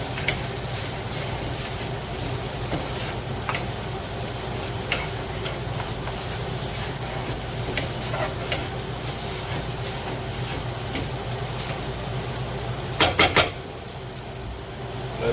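Filipino pancit noodles are warmed in a pan and stirred, a continuous close sizzle and hiss with soft scraping strokes, then a brief cluster of clinks near the end, with no voices.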